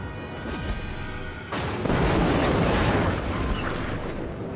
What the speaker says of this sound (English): Blind fire some of these guns.